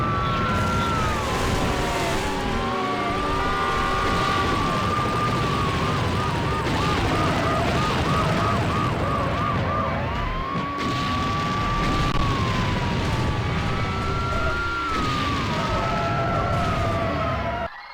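A police pursuit siren wails and warbles over constant engine roar and explosive airstrike blasts in the Need for Speed racing game, loud and dense throughout.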